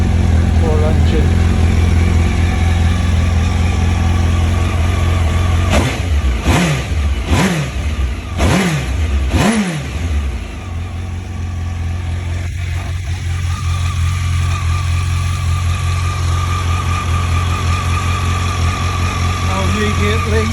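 A Kawasaki ZX12R motorcycle engine, freshly installed, idles loudly with a steady low rumble, broken midway by several sharp throttle blips that rise and fall before it settles back to a smooth idle.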